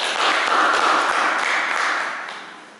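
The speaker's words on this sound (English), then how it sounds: "A great round of applause for them" Sustained round of applause from a workshop audience at a breathing practice event, dense steady clapping that swells at once and gradually fades toward the end, no talking over it.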